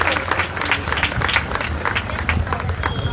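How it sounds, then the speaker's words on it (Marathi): An audience at a women's recognition event applauds, dense crowd clapping that runs continuously at fair loudness, with some crowd noise and voices mixed in underneath. "सगळ्या महिलांसाठी आपण टाळ्या वाजवूयात का?"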